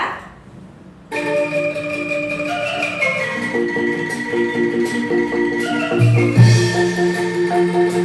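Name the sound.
angklung being shaken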